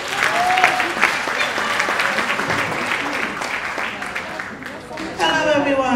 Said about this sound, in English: Clap them now, please.